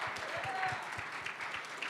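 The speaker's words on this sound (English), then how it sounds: "please round of applause for him" Audience clapping fills a closing ceremony gathering, a dense, steady patter of many hands at moderate volume carrying on throughout, with a few stray voices underneath.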